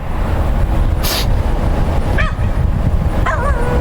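A dog in a backyard gives a few short yips and barks, heard fairly near over steady low outdoor rumble and background noise.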